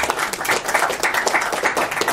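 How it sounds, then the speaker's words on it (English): Seminar audience applauding a speaker, a dense, steady patter of many hands clapping at moderate distance for a couple of seconds. "Can you please give him a resounding round of applause?"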